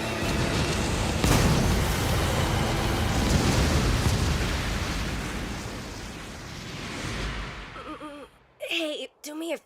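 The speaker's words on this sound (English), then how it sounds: "The item's gonna detonate!" A loud, sustained explosive roar from a detonating item in the anime Gin no Guardian rumbles and slowly fades over several seconds, followed by brief excited voices at the end.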